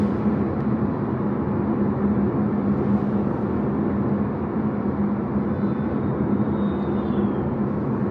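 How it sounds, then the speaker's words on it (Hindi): Steady cabin noise inside a Citroen Aircross turbo while driving, a constant low hum and road rumble with a faint engine drone, even and unbroken for eight seconds, no talking. "आप कैबिन की नॉइज़ सुन सकते हैं"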